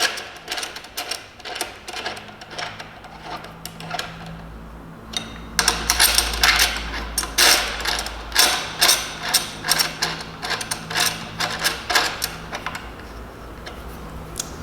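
Ratcheting clicks from tightening handlebar bolts on an electric bike, sharp ticks in uneven bursts with short pauses, close to the microphone, no talking.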